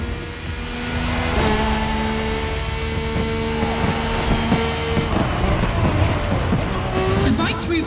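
An AGP race car in The Crew Motorfest racing game drives a long asphalt route, its engine droning loudly and steadily with tone shifts through gear changes and cornering, tires squealing at times, under a voice talking over it.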